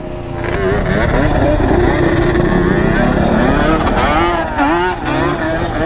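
A 450 dirt bike engine revs loud and close while spinning a donut, the pitch rising and falling in sweeping waves across the whole stretch.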